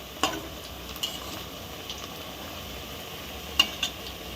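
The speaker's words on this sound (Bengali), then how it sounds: "তাই জন্য এখন অল্প করেই ভাজা হচ্ছে" Pakoras made from leafy greens such as kolmi, susni, kulke, borma and thankuni fry gently in oil with a soft, steady sizzle. A few sharp utensil clinks sound near the start and again toward the end.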